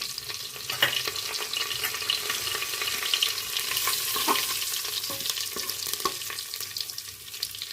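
Whole spices, red chilli, bay leaf, curry leaves and asafoetida sizzle steadily in hot oil for a vegetable khichdi, with a bright continuous crackle and a few sharper pops and spoon scrapes.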